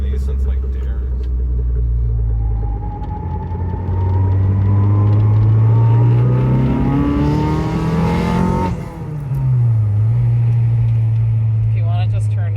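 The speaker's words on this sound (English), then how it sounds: "It's so weird driving the Integra again." Acura Integra sedan engine pulling through the gears on a city street, a loud, steady drone whose pitch climbs under acceleration, drops sharply at a shift, then settles into a cruising hum.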